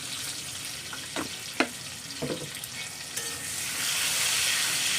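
Masala ghugni ingredients fry in a pan with a steady sizzle, broken by a few sharp stirring scrapes and clinks, then a louder, fuller hiss of frying toward the end, close and with no voices.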